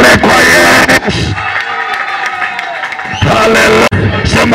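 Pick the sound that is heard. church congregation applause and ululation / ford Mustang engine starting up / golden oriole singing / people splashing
church congregation applause and ululation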